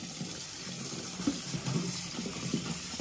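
Cold tap water runs steadily over cooked lobster noodles draining in a colander, a close continuous splashing rush with a sharper burst at the very end.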